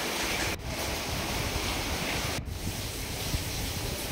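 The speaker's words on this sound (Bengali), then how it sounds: "যেভাবে ঘরের ভিতর জল আসছে দেখেন, এখনও এখনও আরও বেশি আসছে।" Floodwater from heavy evening rain pours into a house as a continuous loud, broadband rushing wash, steady and close, with two brief dips.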